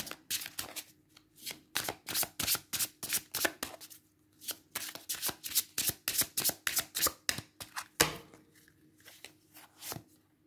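Tarot cards shuffled by hand in a steady run of crisp riffling bursts, close and fairly loud, with a short pause partway and a sharper slap of the deck near the end, no voices.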